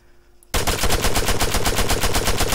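Automatic rifle fire in the Arma 3 video game, one sudden sustained burst of rapid evenly spaced shots, loud and close after a quiet moment.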